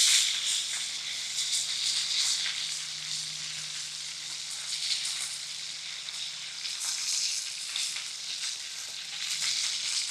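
Ribeye steak searing in a hot pan, fat sizzling in a steady loud hiss with crackling pops, close up and continuous without talk.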